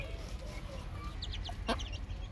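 A backyard chicken clucking, a few short soft clucks and calls over a low steady background hum, fairly faint and without talk.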